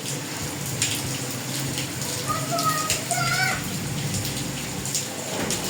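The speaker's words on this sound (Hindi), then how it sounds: "बारिश हो रही है" Steady rain falls outside a home kitchen in Pakistan, a continuous broadband hiss that persists throughout, with faint children's voices and some household sounds mixed in.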